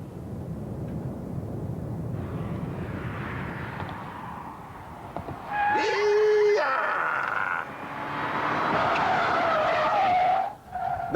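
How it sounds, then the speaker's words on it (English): A car driven at about 100 mph on a private test track with traction control off skids through corners, its tyres squealing in long, loud, wavering bursts over a steady engine roar. "So here I am doing 100 miles an hour on a private test track, of course."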